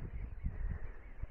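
Faint, brief honking calls of waterfowl, several quick squawks in a row against a low background hum.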